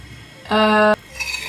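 Room-temperature butter being mashed together with flour in a bowl, giving one loud, sustained squeak of a utensil against the dish that lasts about half a second, with quiet kitchen handling before and after.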